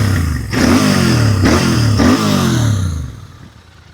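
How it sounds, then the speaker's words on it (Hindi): A 2025 Royal Enfield GT 650 motorcycle's engine is revved close and loud in three sharp throttle blips, each roaring up and falling back before fading to idle. "भाई दहाड़ती है थ्रोटल करने पे, है संजय भाई?"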